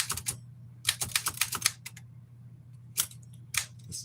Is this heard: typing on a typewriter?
yes